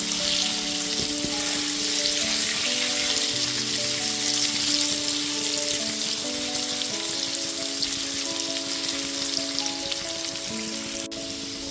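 Potatoes fry in oil over a medium flame, coated in salt and turmeric, a dense, continuous sizzle heard up close, with background tones running beneath it.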